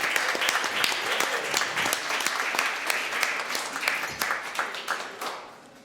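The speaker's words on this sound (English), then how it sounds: "let's give a big round of applause to the team that made this possible" An audience at an innovation challenge finals event claps in a steady round of applause for the organizing team, with distinct individual claps, gradually tapering off at the end.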